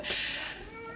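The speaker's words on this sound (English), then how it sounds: "That's my cat." A house cat gives one clear, close meow, drawn out and fading over about a second, heard alone.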